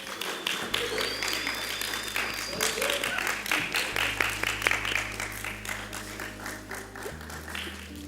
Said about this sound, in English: You all could give her a round of applause again.